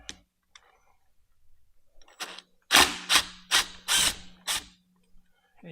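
A power drill fitted with a Phillips screwdriver bit drives screws during a Rattan LF 750 Pro motor replacement: five short, loud whirring bursts in quick succession, close by, after some faint handling noise.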